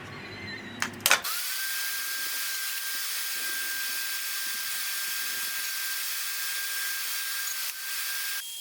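Woodworking router fitted with a dovetail bit cutting wood, switching on with a brief clatter and then a steady high whine with hissing cutting noise that holds for about seven seconds.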